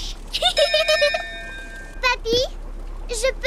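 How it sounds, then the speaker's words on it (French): Ship's bell rung aboard a boat in the Peppa Pig cartoon, a bright ringing tone with several quick strikes mixed in among children's cartoon voices talking. "Peppa, sonne la cloche."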